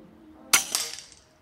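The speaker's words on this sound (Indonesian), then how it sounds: "Kita coba tembakan ketiga." A single sharp crack from a full-CNC stainless air rifle fired outdoors, close and loud, with a brief clattering tail that fades within about a second.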